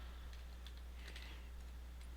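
Light, quiet keyboard typing with a handful of soft scattered key taps over a steady low background hum.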